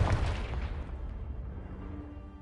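Blasting spell explosion in Hogwarts Legacy: a single loud boom at the start with broad crackling debris that slowly decays into a low rumble.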